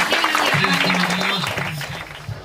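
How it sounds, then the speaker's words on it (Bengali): A church congregation claps hands loudly together in a short burst of applause, with a voice carrying over the clapping as it fades. "আমরা জোরসে জোরসে হাততালি দিই"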